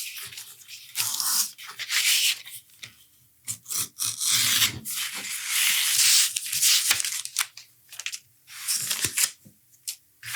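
A blade cuts a leather holster piece in short rasping, scraping strokes with brief pauses between them. The strokes sit close to the microphone and are heard alone, without talk.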